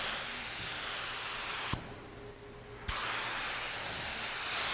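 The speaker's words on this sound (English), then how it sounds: "Now, I'm getting what's referred to here as a dry spray, meaning I'm not getting really wet." A spray gun sprays dye over a large surface at low pressure, giving a steady broad hiss that cuts out briefly with a click partway through, then resumes at the same level, close and alone without talk.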